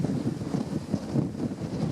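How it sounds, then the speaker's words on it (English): Strong cold wind buffets an outdoor microphone in a field where an old Fendt 714 tractor is ploughing, a continuous low rumbling roar with uneven gusts and no voices. "it's bloody windy and cold today"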